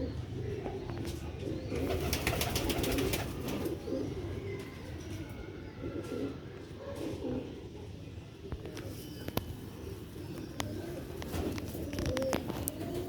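A silver male pigeon coos in low, throaty, repeated rolls, fairly faint and steady, with occasional wing or perch clicks on a rooftop loft.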